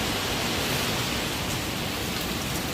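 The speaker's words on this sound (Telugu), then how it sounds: "చాలా ఫుల్గా వర్షం పడుతుంది ఇక్కడ" Heavy rain pours in Hyderabad, a dense, steady roar of falling water that fills the scene evenly and loudly without any break.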